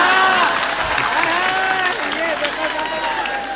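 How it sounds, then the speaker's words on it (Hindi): A crowd at a Hindi poetry gathering claps and cheers in a steady roar, with a voice reciting over the applause throughout. "जो ज्यादा ताली पीटेगा हम होंगे आभारी"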